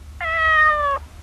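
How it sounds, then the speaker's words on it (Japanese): A single clear cat meow, drawn out for about a second, close and loud against near silence. "猫"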